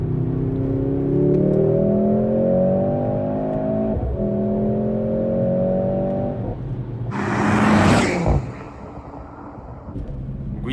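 Mercedes-AMG GLC63 S E-Performance, a 680 hp four-cylinder hybrid, pulls hard with a loud, rising engine note that climbs through the gears, then gives a sharp rushing burst before settling back to a steady drone.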